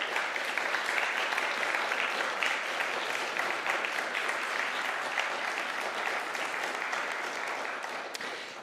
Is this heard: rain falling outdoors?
no